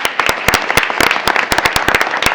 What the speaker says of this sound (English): so a round of applause for Liliana